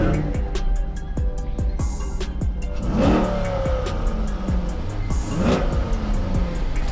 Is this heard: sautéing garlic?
no